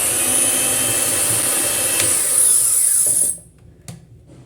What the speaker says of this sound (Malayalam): ഇതുപോലെ കുറേശ്ശെ ഒഴിച്ചിട്ട് പെട്ടെന്നൊന്ന് ബീറ്റ് ചെയ്തിട്ട് മാറ്റിയെടുക്കുക